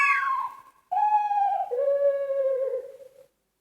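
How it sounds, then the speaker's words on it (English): A tawny owl calls in three long, descending hooting notes, clear and fairly loud, each tone sliding slightly downward with a brief gap between the first and second. "Tawny owl."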